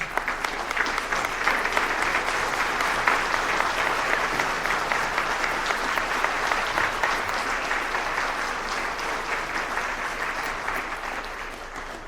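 Sustained audience applause in a school auditorium for alumni and athletic Hall of Fame inductees, a dense, even wash of many hands clapping steadily for the full length without talk, easing slightly toward the end.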